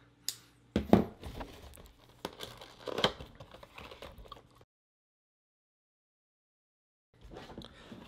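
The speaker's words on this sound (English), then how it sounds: "Let's go ahead and cut this open so we don't destroy the box trying to rip the freaking tape off of it." Pocket knife slicing through packing tape on a cardboard box, with close crinkling and tearing scrapes for a few seconds, then silence, then a brief rustle near the end.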